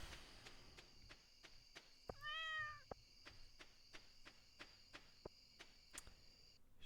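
A cat in the Stardew Valley video game gives a single short, clear meow, set against a steady chirping cricket loop and periodic soft game clicks and footsteps.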